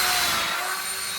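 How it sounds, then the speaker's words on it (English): A dual speed drill whirs at high speed, stirring natural peanut butter in a jar with a steady, bright, close mechanical whine that holds throughout. "I've got a dual speed drill, so now we've started it and got her going"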